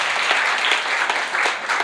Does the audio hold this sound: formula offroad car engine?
no